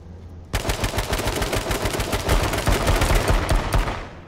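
Sudden loud automatic gunfire in H1Z1 breaks out after a brief quiet moment, a dense rapid stream of shots continuing steadily to the end with no talking.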